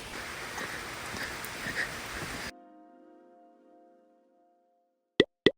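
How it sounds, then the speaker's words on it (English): Steady outdoor rain hissing close by for a couple of seconds, then cutting off abruptly into near silence, followed by two sharp clicks at the end. "walking in the rain it is"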